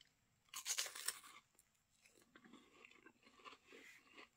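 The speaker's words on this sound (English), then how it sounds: "The crunch is satisfying enough" Crisp crunching and chewing of an Atkins protein wafer crisp with a white chocolate coating and foamy peanut butter center, loud bites up front then softer, steady chewing close to the mic.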